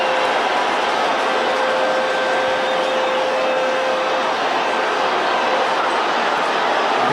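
The hooter sounds at a 1992 Leeds v Wigan rugby league match as a steady, sustained tone. It rises above a dense crowd roar for about four seconds, then cuts off while the crowd noise carries on.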